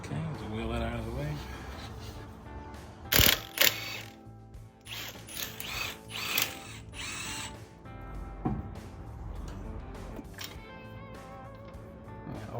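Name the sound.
impact gun removing wheel studs on 2004 Ford Mustang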